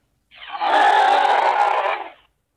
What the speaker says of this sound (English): D as in dinosaur.